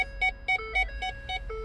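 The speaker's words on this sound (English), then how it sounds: "beep, beep, beep. I'm in reverse." A Ford F150 sounds its reverse warning, a steady run of about six evenly spaced electronic beeps, each short and clear tone repeating roughly four times a second, close and alone.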